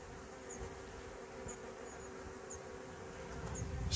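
Honeybee swarm fanning and buzzing at a box, a steady close insect drone with a few brief higher whines over it, no voices.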